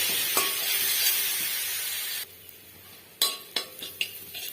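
Spice masala fries in a pan after a little water is added, a loud hiss that drops to a quieter sizzle, followed by several sharp metal spatula knocks against the pan.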